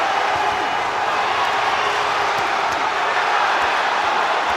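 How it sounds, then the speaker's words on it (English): A boxing crowd at a fight roars and murmurs in a steady, dense wash of cheering, with no breaks in the sound. "The crowd responding."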